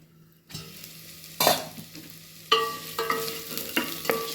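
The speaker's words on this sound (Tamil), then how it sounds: "இந்த பூண்டு போட்டதுனால அந்த பூண்டு அந்த எண்ணெயில் நல்லா வதங்கணும்" Garlic and urad dal sauté in oil in a pan, with a low steady sizzle broken by several sharp scraping stirs, close by with no voices.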